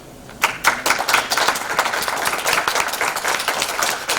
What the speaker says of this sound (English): with another round of applause for them, please.